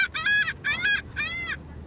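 Seagulls being fed on the Wildwood, New Jersey shore give three loud, close, harsh squawking calls in quick succession, with no talking over them.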